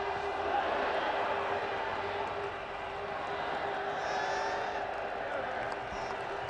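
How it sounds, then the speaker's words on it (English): Cricket crowd at a one-day international at Headingley between England and Pakistan, applauding steadily in a standing ovation. The noise is broad, sustained and fairly distant, with cheers and whoops mixed into the clapping. "everyone else around the ground is giving him a tremendous ovation, a standing ovation from the Western stand"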